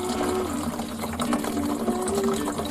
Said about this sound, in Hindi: मैं पानी भर रहा हूँ